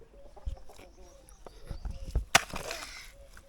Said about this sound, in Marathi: तुझी काळी कोंबडी आहे तिकडं.